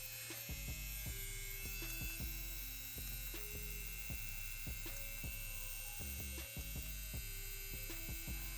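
A Linetion Sworder wireless tattoo pen with a Japanese coreless motor runs steadily close by, a constant fine electric buzz with a low hum underneath and small clicks over it.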